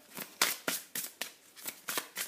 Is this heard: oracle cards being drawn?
yes